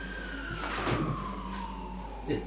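An ambulance siren gives one long, steady wail that slowly falls in pitch at moderate loudness, with a few dull knocks and rustles underneath and no talking.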